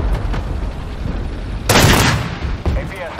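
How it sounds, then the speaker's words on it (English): Gunfire from a K-21 vehicle in a video game, with bursts of shots and a loud, sharp blast near the middle followed by another report. "They're firing across the way"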